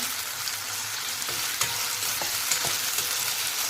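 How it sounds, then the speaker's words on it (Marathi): Potatoes and onion sauté in oil over a high flame: a steady, close, broadband sizzle runs throughout, broken by a few light stirring clicks, with no talking. "गॅस मोठा केलेला आहे थोडं एक दोन ते तीन मिनटं चांगलं परतून घ्यायचं"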